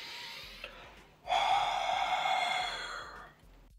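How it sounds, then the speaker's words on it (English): Close breath blown onto air quality sensors: a soft inhale, then a long, steady, airy exhale of about two seconds that fades out, heard alone without speech. "I'm left with breathing on the sensors to see if CO2 and VOC increases"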